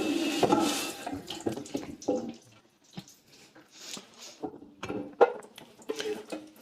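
Water sprays hard from the nozzles inside a washer for paint rollers and plastering rollers, a dense hissing rush that eases into uneven splashing and dripping.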